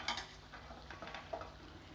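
Chicken sukka sizzles softly in a pan as chopped coriander and curry leaves go in, with faint frying hiss and light stirring scrapes against the pan, quiet and close.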